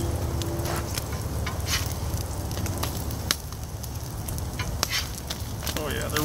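Spam slices sizzle and fry steadily in a hot pan, a dense continuous crackle with scattered sharper pops throughout.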